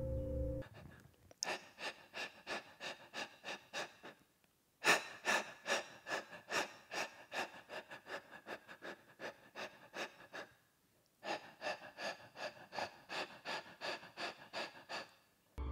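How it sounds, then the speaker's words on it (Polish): Heavy, raspy panting from animatronics in Five Nights at Freddy's 4, repeated in rapid rhythmic bursts of breaths across three long runs separated by short pauses, close and fairly loud. "Jeśli usłyszymy ich dyszenie, należy zamknąć drzwi."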